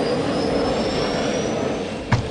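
A futuristic motorcycle in the Last Day On Earth video game runs with a steady, loud jet-like whine and roar, holding constant before a brief thump near the end.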